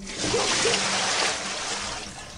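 Water pours and splashes in a steady rushing stream, fairly close, tapering off slightly toward the end.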